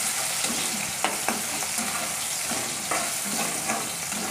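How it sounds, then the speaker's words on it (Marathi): Finely chopped onion fries in a pan for a spicy brinjal curry, a steady close sizzle broken by a few sharp clicks of a spoon as it is stirred. "आता त्यामध्ये हे बारीक चिरलेला कांदा टाकणार आहे"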